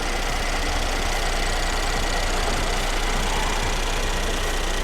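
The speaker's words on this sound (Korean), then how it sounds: "엔진 소리 일정합니다" A Mercedes-Benz CLS400 (W218) engine idles steadily, heard close in the engine bay, a constant even rumble with a faint rhythmic knock and no talking.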